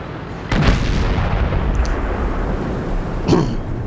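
A heavy tank cannon shot from the T110E5 in the World of Tanks video game booms once sharply near the start, followed by a rumbling tail and a second softer thud near the end.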